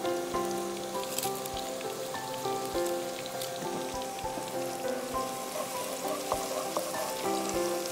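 Chicken soup with cardamom, bay leaf and cinnamon comes to a boil in a home kitchen, making a soft, constant bubbling patter like light rain, with faint background music underneath throughout.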